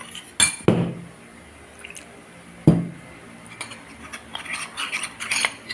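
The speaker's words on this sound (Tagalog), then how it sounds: "At ito po ay lagyan natin ng hot water" Hot water poured onto a little cornstarch while cooking corned beef, heard as a few short splashes and glassy clinks, quiet and close, separated by pauses with faint kitchen rattles.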